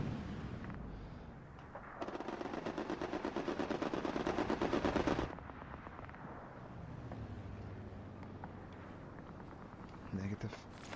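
Strafing-run gunfire in the video game Hell Let Loose: a fast, steady stream of rattling automatic shots for about three seconds, fairly faint and distant, followed by a low rumbling tail and murmuring voices.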